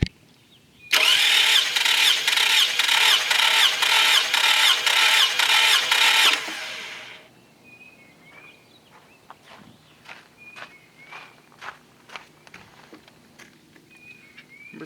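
A high-mileage Toyota Camry engine cranked during a cylinder compression test: a loud, rapid rhythmic starter chug lasting about six seconds, then stopping, followed by quieter clicks, scattered taps and faint chirpy tones.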